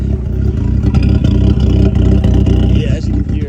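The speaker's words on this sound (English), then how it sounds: "Idling a little better." A Mark 5 VW GTI with a freshly installed downpipe and a bad turbo idles loudly and close, a steady, slightly uneven engine rumble that holds throughout.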